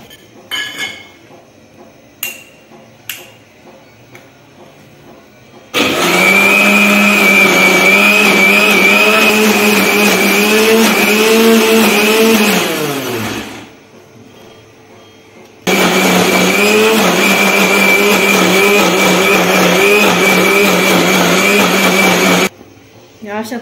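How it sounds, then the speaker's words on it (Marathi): A mixer grinder churns cream from boiled milk with water to make butter for ghee. It runs as two long, loud, steady bursts with a pause between them, and light clinks and handling noises come before the first. "ते मिक्सरमध्ये फिरवून घेते मी"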